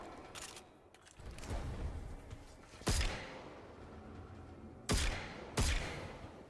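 Luna's Howl hand cannon in a video game fires four loud, sharp shots, spaced irregularly over a low rumbling game background.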